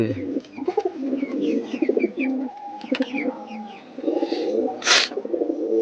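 Madrasi pigeons coo close by in low, repeated, throaty phrases, with faint chirps and a brief sharper noise partway through.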